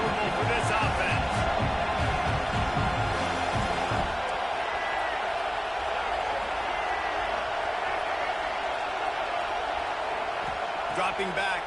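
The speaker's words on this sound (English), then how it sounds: "This crowd trying to make life miserable for this offense." Steady roar of a college football stadium crowd at a Penn State versus UCLA game, a continuous dense wash of noise throughout, with a commentator talking over it.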